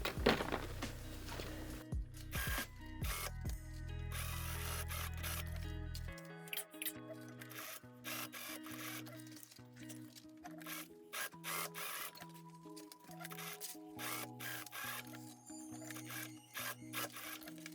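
A sewing machine top-stitches fabric for a Halloween corset, running in quiet bursts of rapid mechanical stitching with short pauses between runs, close and fairly faint.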